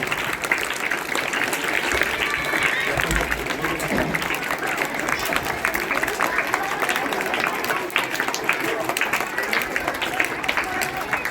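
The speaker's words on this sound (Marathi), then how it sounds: "आपण सर्वांनी जोरदार टाळ्या वाजवून त्यांचं या ठिकाणी स्वागत करायचे" Schoolchildren and guests at a primary school event applaud to welcome guests during a sanitary pad distribution, a sustained dense round of clapping from a crowd that fills the whole stretch.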